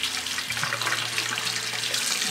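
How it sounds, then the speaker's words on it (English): Tap water running from a faucet over a hand at a sink, a soft, continuous hiss and splash heard close by and alone, with no talking. "I'm going to wash my hand, drench my hand in water"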